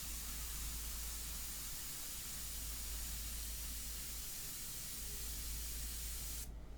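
An airbrush sprays India ink onto paper as a steady, even hiss that carries on without a break and cuts off abruptly just before the end, quiet and close.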